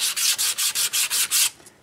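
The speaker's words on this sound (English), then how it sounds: "I think I can go and sand this with 220" Olive wood on a lathe being sanded by hand with 220-grit paper, about eight brisk, even back-and-forth rasping strokes, close and loud, then stopping.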